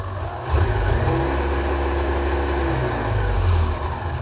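A WLtoys 144011 RC buggy's electric motor runs steadily as throttle is applied, a loud close whirring drone that steps up just after the start and holds with slight swells, no talk.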